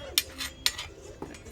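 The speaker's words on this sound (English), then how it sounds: "Mix these until the cornstarch is dissolved." A utensil clinks against a bowl while cornstarch is mixed until it dissolves for piñata paste, with a few sharp taps and scraping stirs at a moderate, close level.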